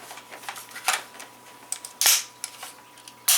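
An AR-15 rifle's action is cycled by hand, giving a series of sharp metallic clicks and clacks at irregular intervals, close and crisp against a quiet background.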